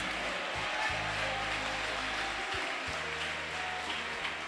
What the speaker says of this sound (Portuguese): Desocupem as mãos, batam palmas e glorifiquem a Jesus